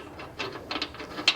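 A DeWalt power wrench strains against a tractor bolt on a Farmall 130, giving a short burst of close, rapid ratcheting clicks and mechanical clatter.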